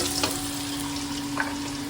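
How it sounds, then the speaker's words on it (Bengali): Onion sizzles in a pan after fried fish for a curry, a soft continuous frying hiss with a faint stir or two, low and steady throughout. "এখানে একটু পেঁয়াজটা দিয়ে দেবো"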